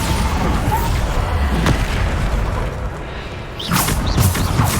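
Booming spell blasts and whooshing impacts from combat in Hogwarts Legacy, a dense run of explosions and thuds over a constant loud rumble, with sharp swooshing bursts near the end.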